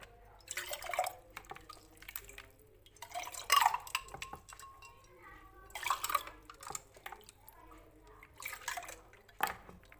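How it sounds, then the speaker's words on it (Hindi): Fresh falsa juice pours and drips into a glass in short liquid bursts with a few clinks, fairly quiet and close, separated by gaps. "ये देखिए, अब हम इसमें डालते हैं जूस।"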